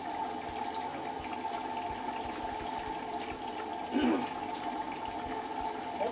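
A Beko 9kg XL WMB91442LR washing machine runs its wash cycle, producing a steady, continuous hum and swishing of water with a brief gurgling surge partway through, heard close and alone.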